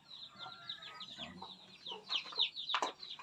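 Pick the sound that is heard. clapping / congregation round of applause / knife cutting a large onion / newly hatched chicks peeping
newly hatched chicks peeping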